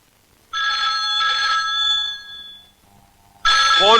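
A telephone rings loudly in a long trilling burst, pauses briefly, then starts ringing again, with no talking.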